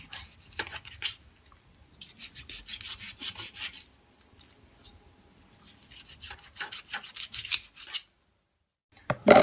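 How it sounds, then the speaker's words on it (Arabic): A knife scraping and slicing raw chicken into pieces for shish tawook on a cutting board, with rasping bursts of cutting separated by short pauses and a sharp knock at the end. "نقطع هنا بقى الشيش طاووق عادي حسب القطعه اللي انت عايزاها"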